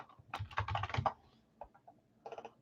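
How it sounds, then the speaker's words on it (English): Rapid bursts of typing on a computer keyboard, a dense flurry of quick clicks followed by a pause and a shorter final burst, close and clear with no talking. "I don't know why I have a hard time with that, typing fast."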